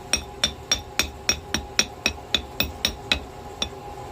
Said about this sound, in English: a scaling hammer, slag hammer that is, for getting this stuff off.